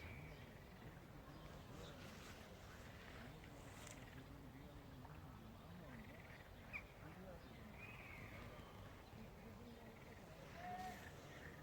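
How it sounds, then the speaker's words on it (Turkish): Faint birdsong chirps and whistles scattered over a soft, steady outdoor background hiss, fairly distant. "Kuş seslerini duyuyor musunuz?"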